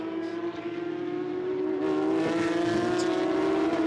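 A bright yellow Porsche Carrera Cup race car holds a high, steady engine note at full speed during qualifying, loud and sustained as it passes close, with a rising buzzy tone near the end.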